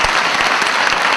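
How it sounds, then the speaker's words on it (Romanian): A festival audience claps in a dense, loud burst of applause, close and continuous through the short moment. "Aplauze să fie și pentru dumneavoastră!"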